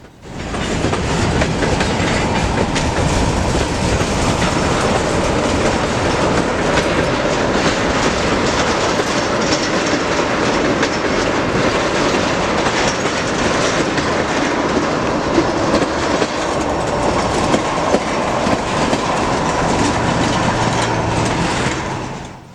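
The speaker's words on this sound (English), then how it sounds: "the end of the train wasn't far behind, and it soon passed as well." A long freight train on the Iowa Interstate Railroad rolls steadily past close by, wheels clattering and rumbling without pause for about twenty seconds before easing off at the end.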